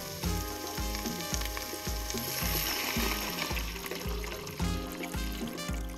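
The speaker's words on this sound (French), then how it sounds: "commencez en mode saisir pour dorer vos viandes et légumes et en faire sortir tous les sucs" Meat and vegetables searing in a Riviera & Bar Virtuo electric cooker, an even sizzle and crackle under a rhythmic musical beat, no one speaking during the sound.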